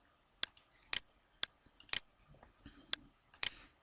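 A computer mouse clicks crisply and close, about eight sharp isolated clicks at irregular intervals while cells are selected in an Excel spreadsheet, with faint soft handling noise between them.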